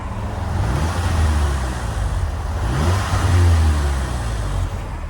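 A Mk2 Audi TT's 2.0 TFSI (EA113) engine revs up several times close by, each rev climbing and then dropping back to a rough idle, with something vibrating afterward.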